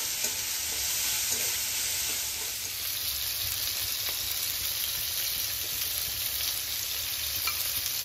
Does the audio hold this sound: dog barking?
no